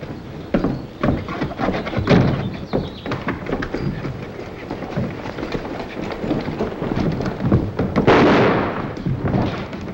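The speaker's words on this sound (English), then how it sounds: "That shot comes from the bank." A gunshot fired from a bank in an Old West town: one sharp, loud crack bursts out near the end over a dense, continuous background of ambient noise.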